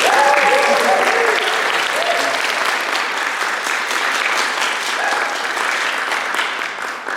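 Steady applause for debaters at a Trinity College Dublin Hist debate against Cambridge University, many hands clapping loudly and evenly for several seconds, with a voice speaking briefly over the start.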